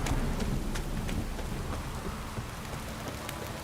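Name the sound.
rain and thunder in video game The Witcher 3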